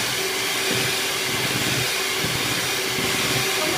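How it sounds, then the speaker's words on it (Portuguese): An electric stand mixer creams butter and sugar for a simple sponge cake, a loud, steady whirring hum that runs alone and unbroken throughout. "Vamos fazer um creme aqui na batedeira."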